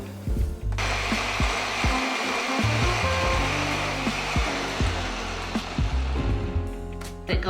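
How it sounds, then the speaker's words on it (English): A blender runs continuously, purees baba ghanoush of eggplant with garlic and olive oil, a loud steady whir with low thumps and churning as the mixture turns over, no voices. "You can see there's a little bit of garlic that hasn't been emulsified or blended up yet, so I'm gonna let it go a little bit longer"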